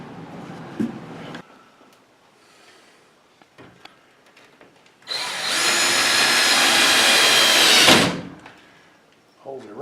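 A power drill driving a screw into drywall during a house build, one loud whining burst of about three seconds amid quieter knocks and handling noise, with people talking nearby.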